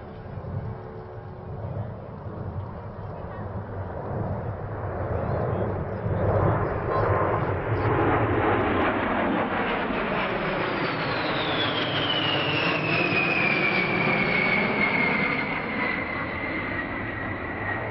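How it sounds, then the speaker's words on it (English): B-52 Stratofortress bomber from Barksdale Air Force Base flying past at the Tuscaloosa airshow, a loud rising jet roar building to a broad rumbling pass with a falling whine as it moves away. "From your right, the B-52 Stratofortress."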